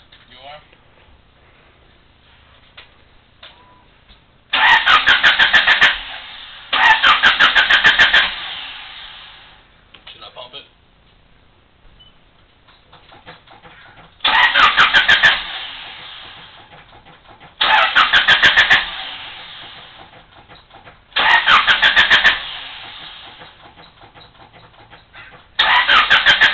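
A 1988 Honda Accord, hard to start after a Seafoam treatment, cranks in several loud, close bursts of a few seconds each, separated by quieter pauses with faint background noise.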